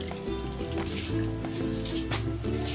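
Water poured into a cooking pot of bangus (milkfish) paksiw with chili, vinegar and fish sauce, a close, steady liquid trickle and splash lasting a few seconds, heard alone without talk.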